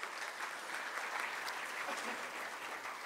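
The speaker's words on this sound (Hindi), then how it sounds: "जोरदार तालियों का साथ" An audience at an MSME summit breaks into sustained, even applause from many hands during a guideline-release ceremony, filling the room with a continuous crackle.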